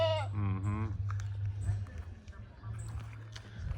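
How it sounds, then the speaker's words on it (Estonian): A goat in a backyard on a rural property in Jamaica gives one clear, wavering bleat close by, then someone talks over steady low background hum and faint rustling. "Teised kitsed ootavad, seal tulevad aeda kohe."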